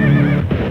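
A loud, close horse whinny with a wavering, descending pitch, standing alone as a short sound effect.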